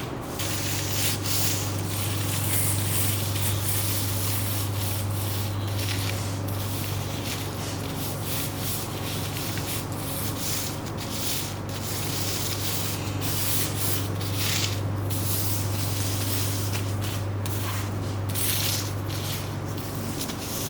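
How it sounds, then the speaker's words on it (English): Hands rub seasoning into the scored skin and grooves of British pork for an Italian porchetta, making a continuous soft rubbing and scuffing close up over a steady low hum, with no talk. "Get that rubbed into all of the nooks and crannies."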